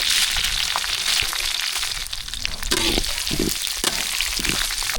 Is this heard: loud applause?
no